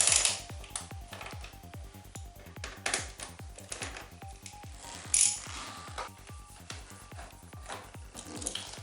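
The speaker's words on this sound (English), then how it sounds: "I go through and loosen all the bolts first." A ratchet wrench loosens bolts on the fairing of a Honda CBR 600 F4i motorcycle, giving a close, fast series of pawl clicks in bursts with brief metallic clinks and no talk.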